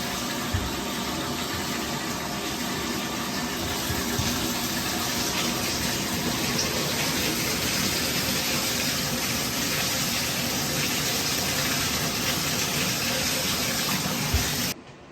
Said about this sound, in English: So now I'm just washing out this conditioner from my hair.